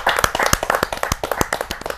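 Sharp, close hand claps ring out at a Hindi kavi sammelan poetry gathering to welcome a poet, a small group clapping with distinct, uneven individual claps rather than a dense wash.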